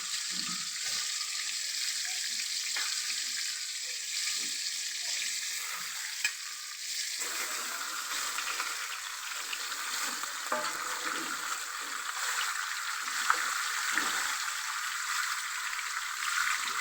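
Chilapi fish goes into a sizzling tomato curry in a pan for homemade fish sambar, with a continuous loud hiss of frying and faint stirring scrapes underneath, no voices.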